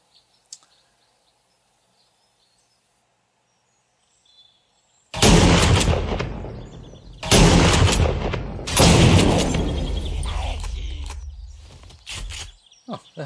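Shotgun gunfire in the survival video game 7 Days To Die: a few loud, close blasts in a row with long decaying tails, following a near-silent stretch.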